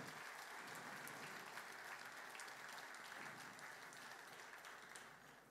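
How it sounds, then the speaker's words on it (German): Dense, steady applause fills a hall at a business award ceremony, a large audience clapping continuously for over five seconds and tapering slightly at the end. "Und bitte nochmal einen Applaus für Sebastian Klusmann,"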